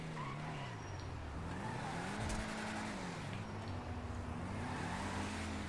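A car revs and accelerates in a racing video game, its engine note rising and falling through gear changes with tire skidding, steady and moderately quiet throughout.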